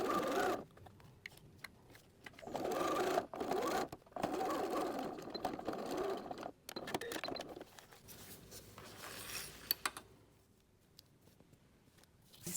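A sewing machine stitches seams on plastic snack bag material in bursts of fast rapid needle chatter separated by short pauses and rustling, close and fairly quiet, with no talk.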